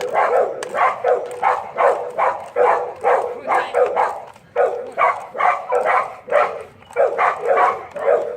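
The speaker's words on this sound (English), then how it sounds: "Dog wants to play." A dog barking repeatedly in a steady rhythm, close and loud, with short woofs and yips in quick succession throughout.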